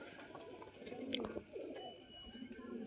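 Several Giribaj pigeons of an old lineage coo in low, overlapping murmurs, steady and fairly close, with a brief sharper sound near the middle.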